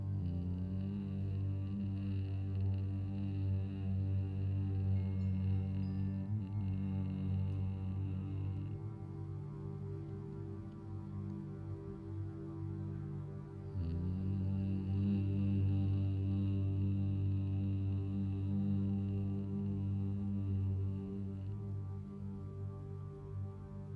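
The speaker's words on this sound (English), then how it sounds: "Just gently humming, creating a sound vibration in your throat" A person gently hums in the throat during a Vishuddha throat-chakra meditation, making a low, steady, sustained drone that breaks briefly midway before a second long hum.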